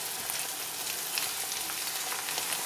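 Diced onion with salt cooking in a pan for beef curry, a steady bright sizzle and hiss, close and even, with no voices.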